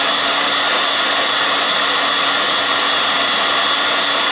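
A hot-air gun heats mobile phone circuit boards outdoors to loosen and remove the chips, giving a loud, steady, unbroken blowing whoosh throughout.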